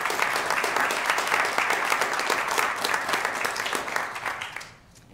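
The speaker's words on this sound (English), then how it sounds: "I think it deserves a round of applause." Audience applause at a public meeting, a dense burst of clapping that holds steady for several seconds and then quickly dies away.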